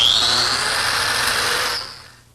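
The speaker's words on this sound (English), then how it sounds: "I'm simply placing the biscuit joiner against the cleat and making the corresponding slots" A biscuit joiner cuts a slot into redwood for an arbor post, giving one loud, steady high-pitched whine that runs for about two seconds and then spins down and fades.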